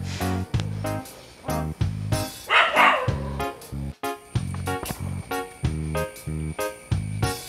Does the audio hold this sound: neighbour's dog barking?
yes